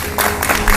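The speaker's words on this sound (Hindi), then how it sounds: "जोरदार ताली बजा दो इसके लिए" An audience at a televised yoga session claps loudly in a short, dense burst of applause that fills the whole moment, with no voices standing out.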